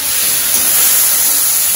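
Brinjal pieces sautéing in a hot pan, a steady, loud broadband hiss and sizzle that holds evenly throughout, close up with no voices.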